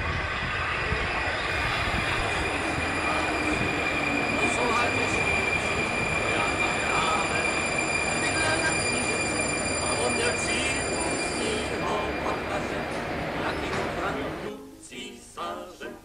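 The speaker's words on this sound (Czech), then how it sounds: "my si počkáme na vláček" Prague metro train arriving at Anděl station, a loud steady rumble of wheels and carriages with high squealing and whining tones, fading as the train comes to a halt near the end, with faint voices.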